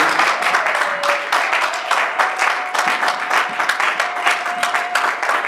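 A church congregation claps and cheers in praise, steady dense applause sustained throughout, with a faint held tone and some voices beneath.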